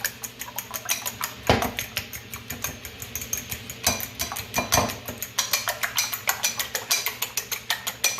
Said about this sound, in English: So you want to whisk your eggs really good.